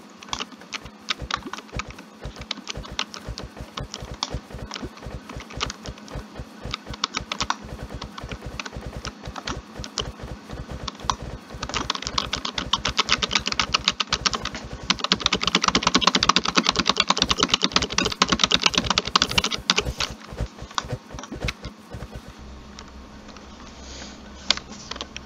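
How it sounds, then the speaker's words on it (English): Rapid, steady typing on an old Dell computer keyboard, close and clear, with dense clicking keystrokes throughout that grow busier and louder in the middle before easing off, with no talking over it. "I'm using one of those old Dell keyboards"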